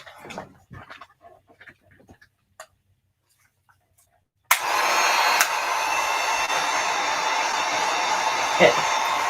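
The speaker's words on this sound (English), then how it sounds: "I'm just going to clean my hands up a little bit so that I can use the heat gun to even this out." Heat gun blowing steadily over fresh epoxy on a tumbler, a loud continuous airy whoosh that begins abruptly midway after several seconds of quiet faint handling clicks.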